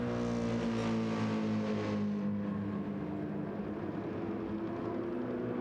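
Race cars lapping a track in a racing video game, their engines giving a steady, close droning whine that shifts pitch slightly as they power through the corners and S-bends, with no voices.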